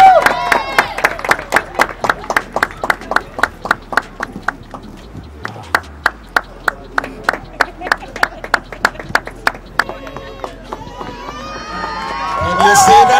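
Congregation at an outdoor wedding cheering and clapping, with dense rhythmic applause nearly throughout and a burst of shouting and cheers near the end, close and loud.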